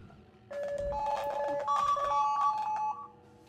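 Notification chime on a phone during a Hardspace: Shipbreaker session, a short run of bright tonal beeps rising in pitch, sounding alone for about two and a half seconds at moderate level.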